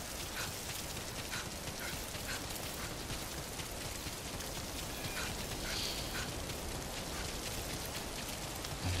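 Steady, dense patter of rain in the video game Metal Gear Survive, broadband and continuous throughout, with no voices.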